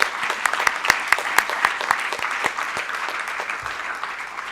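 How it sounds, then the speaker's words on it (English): An audience applauds Uma Chigurupati at a formal gathering: steady, fairly loud clapping from a crowd, with sharper individual claps standing out across the full stretch. "A big applaud for Uma Chigurupati"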